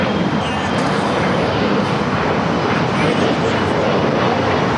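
A jet airplane takes off at Los Angeles LAX airport, a loud, steady broadband engine roar that fills the whole stretch, with voices talking over it.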